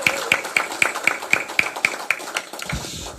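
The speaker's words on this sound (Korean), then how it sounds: "여러분 따뜻한 큰 박수" An audience at a Korean political meeting claps for Yang Seung-jo: a steady run of sharp, evenly spaced claps, about four per second, that thins out and fades near the end, with no talking.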